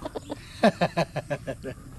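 A conditioned fighting rooster of mixed mestizo breed gives a quick run of about eight soft, evenly spaced clucks at close range, with a bit of background murmur.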